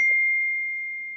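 A phone notification ding rings out as one clear, sustained electronic tone that fades slowly, heard alone with no talk.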